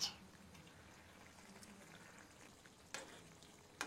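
Fish dropped into a hot frying pan for a red spinach sour dish with shrimp heads, giving a faint, steady sizzle with a few sharp crackles and clinks, close and alone.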